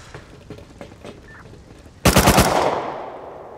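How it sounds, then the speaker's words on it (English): Gunfire in the Rust video game starts with a few faint sharp shots, then a loud close burst of rapid automatic fire followed by a fading echo tail. "Who's shooting me?"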